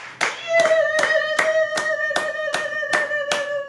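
Congregation at a Sunday church worship service clapping in steady unison, about nine loud, evenly spaced claps over a sustained ringing musical tone, with no talk.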